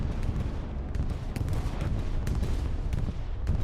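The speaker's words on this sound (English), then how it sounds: "Bombing run comes in for ITHL" Deep rolling explosions from a bombing run airstrike in Hell Let Loose, a continuous heavy rumble punctuated by sharper blasts and scattered gunshots.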